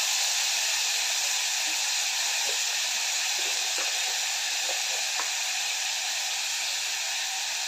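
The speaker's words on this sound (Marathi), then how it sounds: "हे सर्व चांगलं तेलामध्ये चांगलं परतून घ्यायचं आहे" Onion and tomato sizzle steadily as they are sautéed in hot oil with curry leaves and a spoonful of salt, a continuous bright frying hiss with faint stirring clicks, close and alone without talk.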